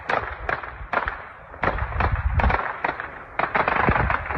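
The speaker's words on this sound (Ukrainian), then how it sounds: "з'явилися кадри, на яких чути вибухи" Repeated sharp explosive bangs and crackles from a drone attack in quick irregular succession, fairly loud and somewhat distant, like a string of blasts with no talking.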